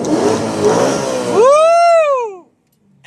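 BMW E92 M3 V8 with new modifications revs up hard and loud, a strong rising wail sweeping high then dropping away into near silence, heard up close without talk.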